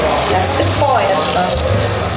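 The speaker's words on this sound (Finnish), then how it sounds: "Siihen kuumaa vettä." Hot water runs from a tap in a home tattooing session, a steady broadband splashing rush filling the whole clip without pause, with faint voices murmuring beneath it.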